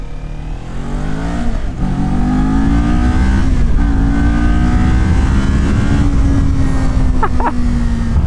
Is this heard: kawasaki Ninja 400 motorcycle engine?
yes